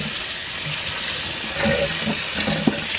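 Tap water runs steadily into a kitchen sink while brined meat is rinsed, a constant hissing splash with small clinks and bumps near the end.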